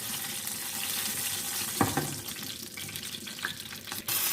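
Steady sizzling and crackling of green and red chillies frying in hot oil, with a brief clatter partway through and a hissing surge at the end.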